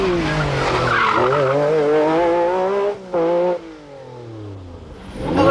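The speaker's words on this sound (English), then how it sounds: "Gabriel Snow's similar car, as you can see, is really trying" Rally car at the 1992 Donegal International Rally, sliding on a stage with a loud, wavering tire squeal over a revving engine, cut briefly before a final surge.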